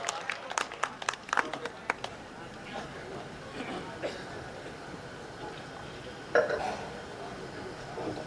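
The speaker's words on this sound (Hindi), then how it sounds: "एक बार जोरदार तालियां बजाए, दोनों हाथ उठाएं, तालियां बजाएं।" Audience clapping bursts out in short, scattered claps at a Hindi poetry gathering (kavi sammelan) in Ambikapur, with a second brief burst later over an ongoing murmur of room noise.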